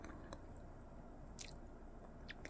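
Chewing a diet snack of raw carrot, mushroom and cucumber dressed with balsamic sauce, with soft, faint squishy bites and a few crisp crunches at close range, without talk.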